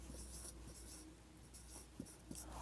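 Pen or marker strokes scratch faintly while the number 3000 is written, soft short scribbles and a couple of light taps over a low steady hum.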